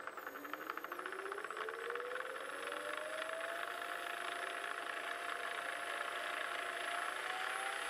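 An electric tool driven by a Slavyanka motor starts up, its whine climbing steadily in pitch as it spins up and then settling into a continuous close mechanical hum.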